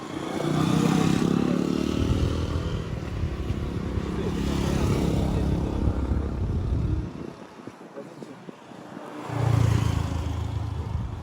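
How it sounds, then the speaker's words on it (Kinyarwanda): A motorcycle engine runs close by with a rough, rising and falling drone, briefly dropping away before surging back near the end, under wind and outdoor noise. "Moto atambuka. Yihute."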